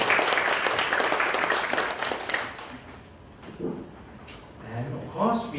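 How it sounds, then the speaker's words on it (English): Audience applause at a Toastmasters club meeting, a dense burst of clapping that fills the first few seconds and then fades, leaving a few quieter sounds and voices toward the end. "Why don't we give her a big round of applause?"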